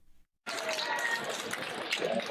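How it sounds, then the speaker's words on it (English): An audience breaks into applause at a rally for North Carolina Lieutenant Governor Mark Robinson, a sudden dense clatter of many hands that starts after a short pause and stays steady. "People clapping."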